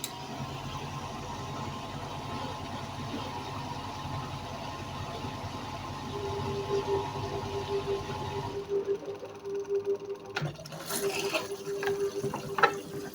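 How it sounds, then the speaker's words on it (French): A new Brandt washing machine fills with water on its first run, a steady hiss of inflow with a low motor hum that stops abruptly, followed by clicks and faint tapping of the valve area. "c'est la prise d'eau"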